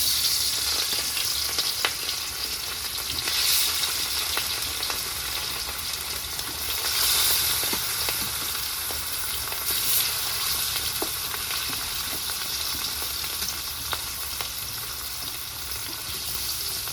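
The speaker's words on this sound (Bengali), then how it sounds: "মাছটা দিয়ে দেবো ভাজা করার জন্য।" Steady, loud sizzling of rohu fish frying in mustard oil, a dense crackle running throughout with occasional faint clinks, no voices.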